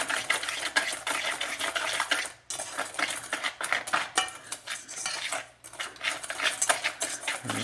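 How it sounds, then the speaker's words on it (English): Small whisk beating a pudding mixture of sugar, salt and flour in a bowl, a fast, close, continuous metallic clatter and swish with a couple of brief pauses. "I'm going to get my little whisk"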